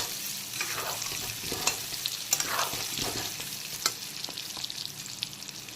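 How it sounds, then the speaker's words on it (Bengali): Turmeric-coated potatoes fry in hot oil in a pan, a steady close crackling sizzle with occasional stirring scrapes and no voices. "দিয়ে দিলাম হলুদ মাখানো আলু। আলুগুলোকে ভালো করে ভেজে নেব"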